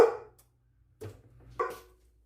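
A service dog barks excitedly as someone comes home indoors: a loud opening bark, then two more sharp barks about half a second apart, close by with quiet gaps between.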